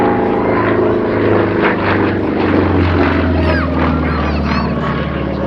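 A homebuilt propeller aeroplane, built from plans, drones past at an airshow with a steady, loud buzzing engine note that shifts in pitch as it passes, with faint talk underneath.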